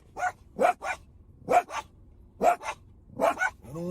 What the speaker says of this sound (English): We're at the dog park and they see a dog and they go crazy.